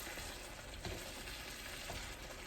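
Liver and onions sizzle in a pan with a dense, continuous crackle, faint and steady throughout, with a soft stir or two.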